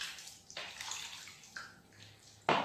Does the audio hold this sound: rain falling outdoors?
no